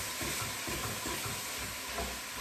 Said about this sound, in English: Beef's stewing. I can hear it sizzling already.